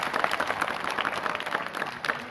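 An audience applauds after a stage play, a short burst of dense, fairly loud clapping with no break.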